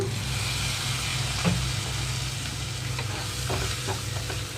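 Raw banana pieces frying in a pan for a vegetarian curry, giving a steady low sizzle with occasional soft clicks of stirring, close and continuous with no voices.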